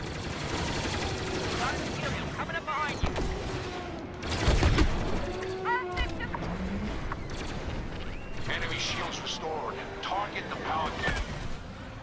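Starfighter missiles and gunfire roar in Star Wars Battlefront 2, a dense barrage of blasts, zaps and rapid shots with a heavy boom near the middle, loud and continuous over game music.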